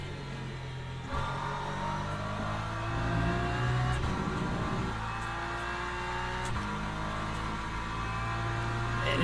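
A racing car engine drones steadily at speed on a wet Spa circuit in Le Mans Ultimate, with shifts in pitch as the revs rise and fall and a low rumble throughout, loud and close, without talking.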